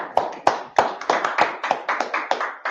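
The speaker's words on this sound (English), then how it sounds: "Clap it up." Congregation clapping hands at a Sabbath service, a series of sharp, evenly spaced claps in a steady rhythm, fairly close and with little else around them.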